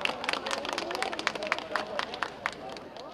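Audience at the Dni Lubawki 2024 town festival applauding to welcome the band, dense clapping from a crowd with some voices mixed in, loud and close throughout.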